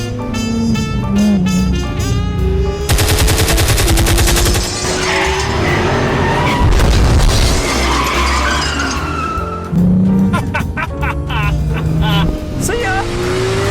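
A Porsche race car on a racetrack is heard as engine roar and tyre squeal over loud rapid bursts of gunfire from weapons mounted on it, with a voice talking between the bursts.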